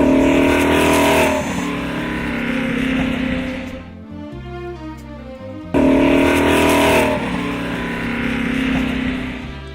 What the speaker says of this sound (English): hear the sound of the old racers roaring down the track